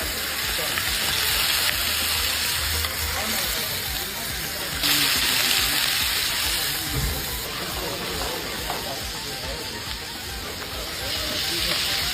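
Meat with village herbs fries in a pan in a restaurant kitchen, a loud, dense, continuous sizzle and hiss with stirring, while a voice talks over it at times.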